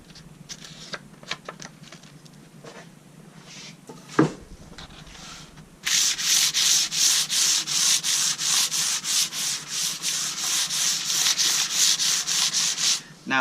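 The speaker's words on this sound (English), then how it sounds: "So I've got here some 400 grit sandpaper." After a few light taps and a thump, 400-grit sandpaper rubs rhythmically back and forth over a table being refinished, a loud steady scratching that continues through to the end.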